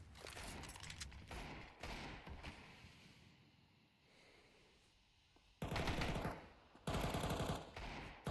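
Automatic gunfire from a Counter-Strike match at the Austin Major, with MP9 bursts spraying through smoke, loud crackling volleys in clusters with a quieter lull in the middle.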